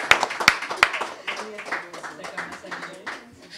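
A few people clap at a general assembly meeting of a community TV station after an election by acclamation. Three sharp, close claps come first, then scattered lighter clapping runs under a speaking voice.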